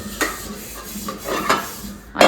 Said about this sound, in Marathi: इकडे जीविकाने घेतलेले आहेत भांडी घासायला.